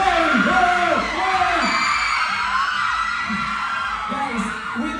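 A crowd at a fan meet claps, whoops and yells loudly up close, with excited shrieks and cheering voices layered over the clapping and slowly easing off.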